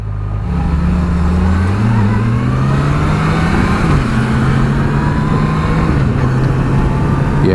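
A 2019 Yamaha FJR 1300 AE sports-touring motorcycle engine pulls hard under acceleration on the road, with a loud, steady, rising drone that shifts pitch through the gears, close and continuous beneath rushing wind.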